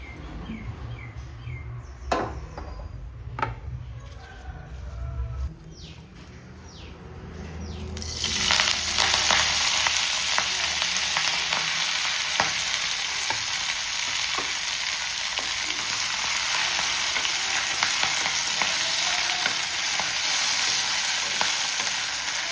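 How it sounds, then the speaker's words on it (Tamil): Thoothuvalai leaves sautéing in a pan: a few sharp clatters and low handling noise first, then the leaves hit the hot pan and a loud, steady sizzle continues, with light stirring scrapes and faint birdsong in the background. "தூதுவளை தழையை வதக்கிக்க வேண்டியதுதான்."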